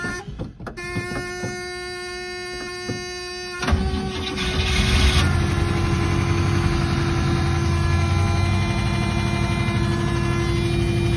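A 1969 Buick Skylark engine with little gas in its carburetor and a weak battery starts partway through. It catches with a sudden burst and then settles into a steady, close idle.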